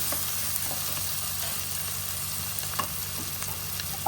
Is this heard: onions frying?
yes